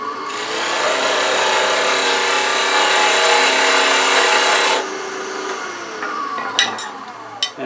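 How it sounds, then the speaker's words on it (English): A 3/8 inch parting tool cuts into spinning wood on a lathe, a steady, loud scraping hiss for several seconds that stops abruptly, followed by quieter lathe hum and a few sharp clicks. "So I use a 3/8 inch parting tool."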